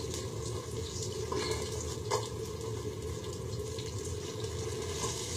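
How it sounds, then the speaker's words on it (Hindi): Milk pours into a pan on a kitchen stove with a steady liquid splashing and trickling sound, moderately loud and continuous with no talking. "इसको गीला रखने के लिए थोड़ा सा दूध डालूंगा"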